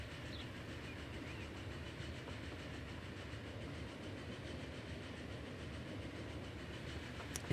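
Passenger train climbing a steep incline in the game Transport Fever 2, a faint, steady rumble with a soft rhythmic clickety-clack of wheels running on and on with no speech.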